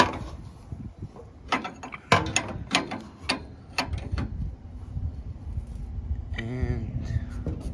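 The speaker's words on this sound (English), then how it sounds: "And then you just grab the wrench, give it a little." Wrench ratcheting while parts are installed on a 2007 Chevrolet Silverado, a run of sharp, close clicks in short bursts over several seconds, with a brief squeaky whine near the end.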